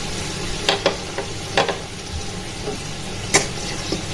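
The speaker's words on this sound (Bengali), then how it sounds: "মশলাটা অনেকটাই ভাজা ভাজা হয়ে এসেছে" Ground coriander and cumin frying in oil for a cauliflower curry, a steady close sizzle broken by a few sharp scrapes and taps of a spoon against the pan, without any talk.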